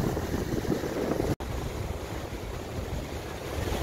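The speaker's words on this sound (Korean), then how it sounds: "지금 이제 파도가 점점 많이 밀고 들어오고 있는데요" Ocean waves at Mangsang Beach in spring, surging in as a steady, loud wash mixed with wind noise on the microphone, continuous apart from one momentary dropout.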